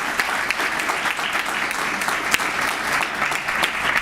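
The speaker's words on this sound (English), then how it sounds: "round of applause for Mayor DeSimone" An audience at a municipal MLK ceremony applauds the mayor, sustained dense clapping from many hands at an even, fairly loud level with no voices rising above it.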